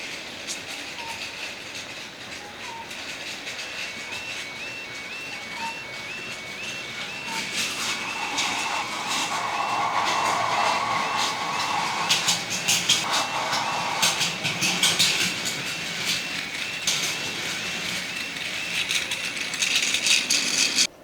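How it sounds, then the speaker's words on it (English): A Plarail DD51 toy locomotive hauls a container train around a plastic track layout, motor whirring steadily with rhythmic clicking and clattering over the rail joints, growing slightly louder as it passes close. "the DD51 takes on the task of hauling a container train along the newly completed route"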